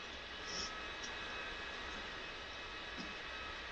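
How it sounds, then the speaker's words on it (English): Steady, even roar of an L-39C jet trainer's engine in the DCS flight simulator, a constant faint hum with no voices over it. "there's the infernal noise of the engine"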